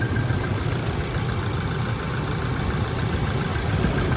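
The 2.8-litre diesel engine of a 2019 Toyota Hilux Revo pickup idles steadily up close, a continuous low rumble with a rough, knocking texture and no change in pace.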